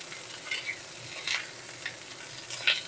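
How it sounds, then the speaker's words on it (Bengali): Pointed gourd pieces fry in hot oil, a continuous close sizzle with a few brighter pops and stirring scrapes, no voices. "এরপর এই তেলের মধ্যে পটলগুলো ভেজে নেব।"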